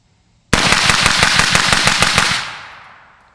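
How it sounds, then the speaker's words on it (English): A Guardian Defense Manufacturing GDM556k rifle fires a rapid string of about fifteen loud, close shots into a dirt berm, followed by a fading echo and no talk. "We'll dump whatever's left in the magazine right here into the berm."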